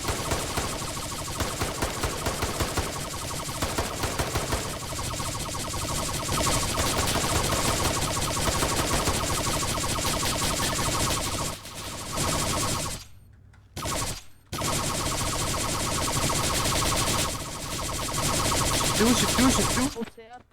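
Sustained bursts of automatic gunfire during an ambush in a video game, loud and rapid with brief gaps, as people talk over the shooting.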